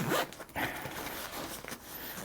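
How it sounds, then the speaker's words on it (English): An overfilled Eagle Creek packing cube being zipped shut, giving a short, strained zipper rasp at the start, then a fainter scratchy pull with fabric rustle, close and fairly quiet. "if I go ahead and actually try to zipper this up, it is going to be quite difficult"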